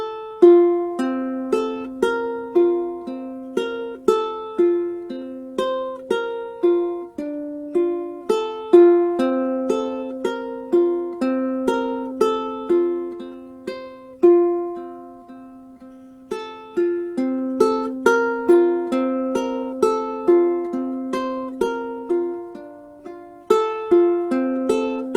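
Fingerpicked blues guitar for beginners, the thumb striking the third string while the fingers stay on the first and second strings; repeating phrases of clear plucked notes with steady rhythm, played alone without talk.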